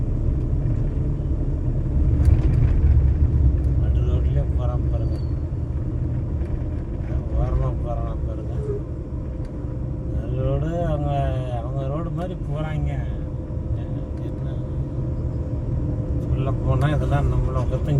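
Steady rumbling engine noise of a vehicle moving along a road, continuous throughout, with a person talking over it.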